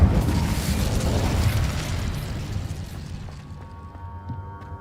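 Incendio fire spell cast in Hogwarts Legacy, a loud whooshing burst of flame that roars for about three seconds, then fades into a quieter tail with faint ringing tones.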